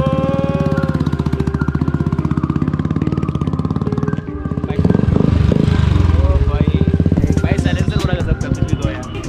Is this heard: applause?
no